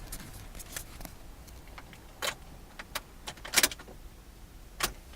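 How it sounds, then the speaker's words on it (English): A car that won't start, with keys jangling and clicking in the ignition over several tries: a few short metallic rattles and clicks spread across the clip, fairly close, with no engine catching. "We had to go to the doctor, but Mommy's car won't start."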